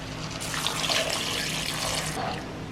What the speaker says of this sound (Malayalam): ഇനി നമുക്ക് ആവശ്യത്തിന് വെള്ളം ചേർക്കണം